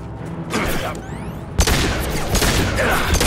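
Gunfire in the video game Mass Effect 2 crackles as a dense, continuous fusillade of shots, with a sharp louder burst partway through, against busy battle noise.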